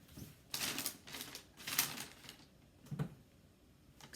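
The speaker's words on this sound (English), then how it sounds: "Excuse my crinkling." Plastic packaging crinkles in a series of short, crisp bursts, loud and close, with quieter rustling between them and no talking.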